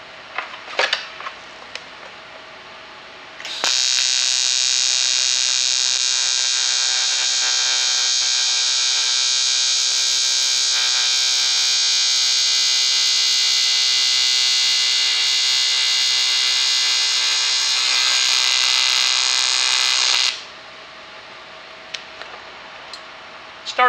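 TIG welding aluminum on AC with a Longevity 160SX welder, a steady loud high-pitched buzzing hiss that starts abruptly, holds for about seventeen seconds, then stops, with faint clicks and handling sounds before and after.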